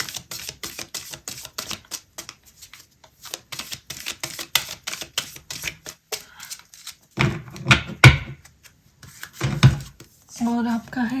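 Tarot cards riffle and snap in a brisk run of dry, papery taps and flicks, the deck shuffled to draw an advice card, followed by a few louder handling thuds and a soft voice near the end.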